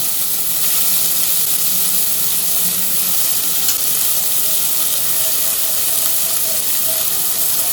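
Onions fry in a pan with a loud, steady, broad hiss of sizzling oil that runs without pause and stays close throughout.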